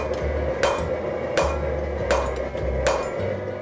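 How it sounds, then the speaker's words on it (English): A hammer forges a short steel taper on an anvil while shaping a branch-shaped bottle opener. Sharp, ringing blows land at a slow, steady rhythm about once every three-quarters of a second over a constant background hum. "I started by forging a short taper, then isolating it with the edge of the anvil."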